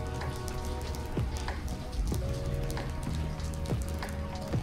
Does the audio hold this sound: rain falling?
yes